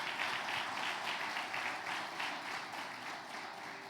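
A church congregation applauds, a steady, dense wash of clapping that holds at an even level for the whole stretch, fairly close and sustained without pause.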